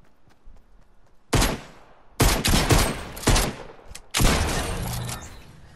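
Bursts of gunfire in the video game Fortnite, with several loud volleys of rapid shots separated by short pauses, the last burst running continuously to the end with no talking.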